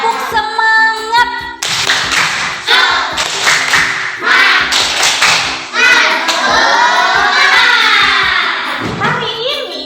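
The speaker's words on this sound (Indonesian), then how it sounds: "Tepuk semangat." Children clap in a quick rhythmic class clap together, mixed with their chanting voices in Indonesian, loud and close in a classroom.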